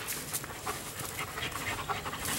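A dog pants rapidly and steadily while playing with other dogs, with quick breathy huffs up close and no talking.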